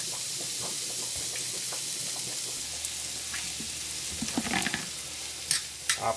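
Lasagna pasta frying on a stove gives off a steady sizzle with soft clicks and knocks of stirring, which grow busier and louder toward the end.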